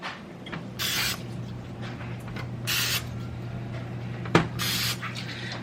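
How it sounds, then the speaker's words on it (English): Three short hissing bursts of aerosol cooking spray onto breaded food, each about half a second, spaced evenly over a steady low hum, with a single sharp click between the last two. "I'm going to spray them again on both sides"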